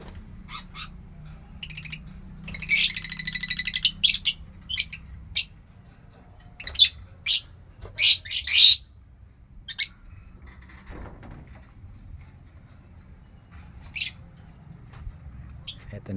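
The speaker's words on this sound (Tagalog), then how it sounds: "Ito naman yung bigay sa aking ibon." A pet bird kept on a small farm retreat gives sharp, scattered squawks and chirps, short bursts spaced across the quiet with a faint steady hum underneath and a soft voice briefly in the background.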